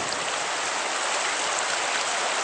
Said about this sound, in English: As we try to cross this river